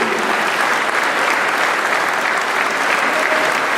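Sustained audience applause at a tribute event commemorating the general strike anniversary, a thick continuous wall of clapping from a crowd, loud and even throughout without speech on top.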